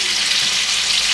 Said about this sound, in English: I'm gonna fry off the rest of the chicken